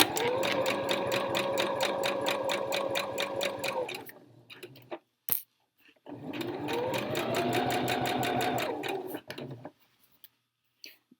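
A sewing machine stitches down trouser fabric in two steady runs of about four seconds each, its needle chattering fast and evenly with a mechanical whir, separated by a brief pause and a sharp click.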